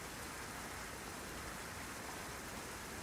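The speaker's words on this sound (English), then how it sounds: "The rain kept pouring down." Heavy rain pouring in Honkai Impact 3rd, a dense unbroken hiss that stays steady and fairly quiet throughout, with no voices.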